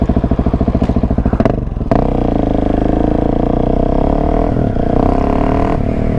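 A Husqvarna 701 Supermoto single-cylinder motorcycle on a city ride in Los Angeles, loud and close, first a throbbing idle, then revving up into a steady engine drone with a few clicks and clatters.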